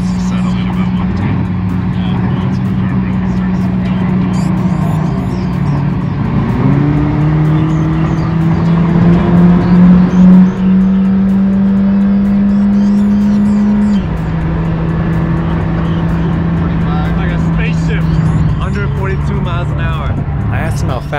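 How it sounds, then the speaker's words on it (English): Steady car engine drone at high speed, around 110 miles an hour, with a rising shift in pitch partway through; the sound is loud and continuous, with no talk over it. "Going at 110 miles an hour feels like 60 from a regular car."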